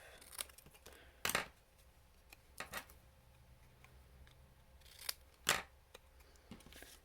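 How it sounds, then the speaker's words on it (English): Scissors snipping paper for a handmade card, a few crisp close cuts spaced apart over faint room quiet with no talk. "Just snip this bit off."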